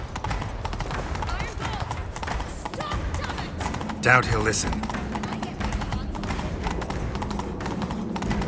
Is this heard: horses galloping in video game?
yes